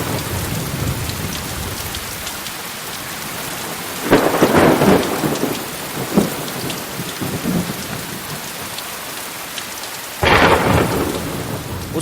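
Steady heavy rain pours outside, broken by two loud, rumbling thunderclaps a few seconds apart, with no talking over it.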